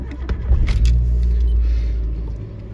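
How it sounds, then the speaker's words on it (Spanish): A Daihatsu Copen kei car's small engine starts up from inside the cabin: a brief cranking clatter, then a loud low idle rumble that settles and holds steady. "El motor suena como un motor japonés, Toyota común y corriente."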